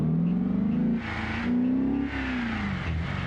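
A car engine in BeamNG.drive revs up and down in loud sustained surges, the pitch rising and falling across repeated throttle blips, with no voices over it.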